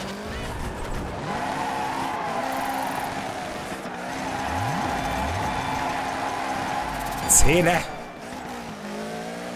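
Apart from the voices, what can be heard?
car drifting and skidding in video game Dirt 3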